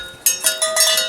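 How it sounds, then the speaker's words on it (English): Livestock bells ringing out on a cattle station, several bright metallic clangs in an uneven rhythm, clear and moderately close. "You can hear some bells over there."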